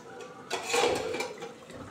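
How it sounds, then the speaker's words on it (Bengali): Rui fish rasha gravy bubbles in an uncovered pot, a soft clatter giving way to a steady close simmering hiss that fades slightly toward the end. "ফুটে গেছে"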